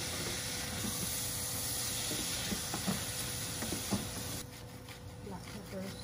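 Clams and white onions sizzle steadily in a hot pan, a continuous frying hiss broken by a few soft scrapes and stirs that ease off toward the end.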